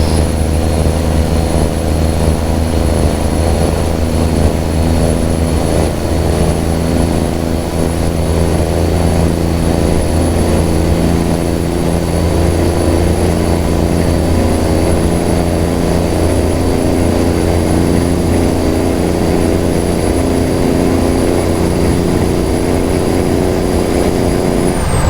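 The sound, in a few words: truck engine droning while driving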